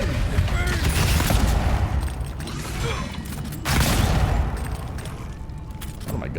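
Gunfire in the video game Avowed, dense rapid shots forming a loud continuous volley with a heavier burst near the middle, under a talking voice.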